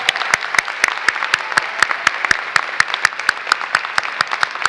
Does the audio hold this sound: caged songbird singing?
no